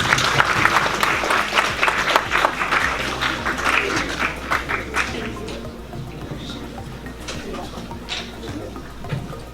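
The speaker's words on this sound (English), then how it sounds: "Rise Project, everyone, round of applause," An audience claps at a university student society event in London, a loud crowded patter that slowly thins and fades toward the end, with faint murmuring and scattered background noise.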